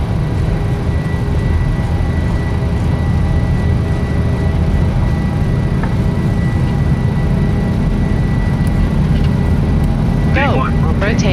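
Simulated PMDG BBJ jet engines at takeoff thrust in Microsoft Flight Simulator 2024 make a loud, constant, close roar with a faint steady whine. A few brief chirping tones appear near the end.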